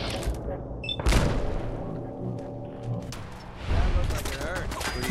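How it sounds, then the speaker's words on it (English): Turrets firing bursts of gunfire in Fallout 4, loud sharp volleys near the start and again toward the end, with quieter rumbling between. "Turrets are shooting something."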